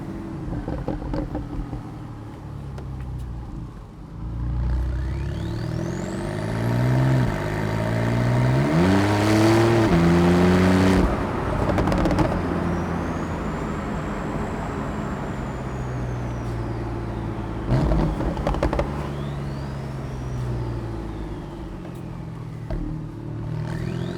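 A Porsche 911 Carrera 4S (991.2) in sport mode revs and accelerates with a rising, climbing engine note, then settles into a steady drone with further swells and downshift blips, close and loud with no talking.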